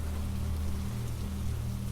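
Steady rain falls around a cabin by the sea, a dense, even hiss with a low rumbling undertone that continues without pause.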